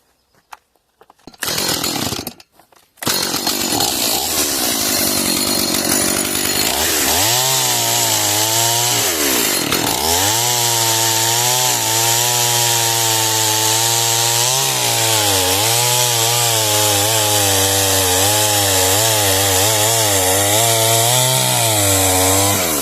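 A gasoline chainsaw revs up and then cuts steadily through firewood on the ground, a loud continuous engine whine holding strong for a long stretch, with no talking.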